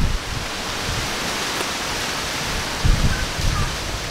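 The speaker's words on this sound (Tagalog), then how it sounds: "Lakas ng hangin." Strong wind blows in a steady, loud broadband rush that stays fairly even, with a couple of brief low thumps near the end and no talking.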